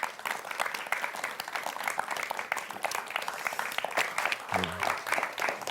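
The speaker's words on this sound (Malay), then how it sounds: "Beri tepukan sekali lagi untuk aku" Applause from the audience at a children's Quran recitation competition finale, a steady mass of clapping filling the hall, with a brief low tonal sound near the end.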